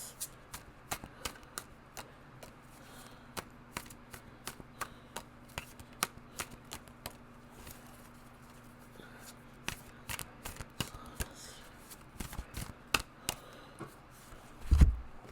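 Tarot cards are shuffled and drawn, giving quiet, close riffles and crisp snapping flicks scattered irregularly over a soft background hum, with a louder handling thump at the very end and no talking.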